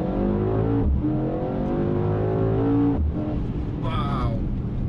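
A Mercedes-AMG E63 S with 612 hp does a launch-control standing start in automatic mode, its engine roaring loud and close as revs climb steadily, broken by two quick gear-shift dips.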